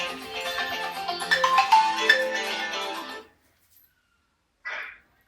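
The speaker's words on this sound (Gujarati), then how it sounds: "ફોન આવ્યો." A mobile phone rings in a village home kitchen, a loud melodic ringtone playing for about three seconds and then cutting off, followed by silence and a brief faint sound.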